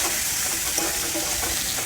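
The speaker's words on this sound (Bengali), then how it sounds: "কুচিয়ে রাখা পেঁয়াজ দিয়ে দেবো।" Chopped onions with a dried red chilli fry in hot oil in a wok after fish has been fried in it. The steady, loud, hissing sizzle stays close and continuous, with light stirring scrapes and no talk.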